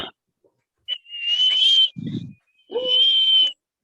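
A person whistles several sustained high tones in two long phrases with a short break between them, close and fairly loud, with a brief low murmur in the gap.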